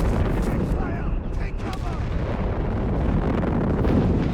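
Distant booming blasts and rumbling impacts from an artillery barrage in Company of Heroes 3 run continuously, with a commentator's voice talking over them.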